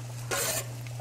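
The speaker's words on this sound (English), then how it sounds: "saute some onions, garlic, and we'll add the mushrooms" Onions, garlic and mushrooms sauté in a warm pan for escargot, with a short burst of stirring and sizzle lasting about a third of a second over a steady low hum, and no voices.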